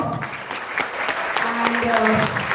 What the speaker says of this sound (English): So please, huge round of applause.